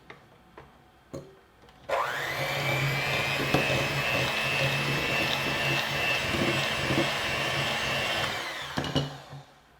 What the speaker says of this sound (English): we are going to cream these together really well with a mixer